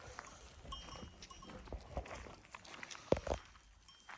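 Sheep and goats graze in the rain, bells tinkling softly and hooves stepping nearby, with one sharper knock or bleat standing out against the quiet, damp background.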